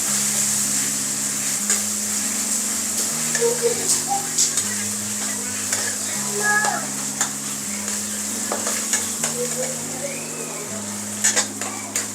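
Ginger garlic paste frying with browned onions for a spicy crab curry: a steady sizzle with frequent spoon scrapes and light clinks against the pot, heard beneath continuous background music.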